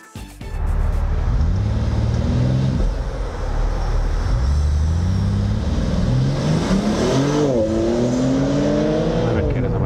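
A BMW M2 sports car pushed hard on a lap, its engine loud and close, revs climbing and dropping through repeated gear changes with a brief lift-off near the start.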